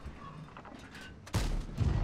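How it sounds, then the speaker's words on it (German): A T95 tank cannon fires an HE shell in World of Tanks: quiet background, then one abrupt heavy boom partway through, followed by a rumbling tail and a second loud thump. "Warum schießt der T95 HE?"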